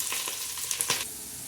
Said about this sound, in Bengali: পেঁয়াজগুলা ভাজা হচ্ছে,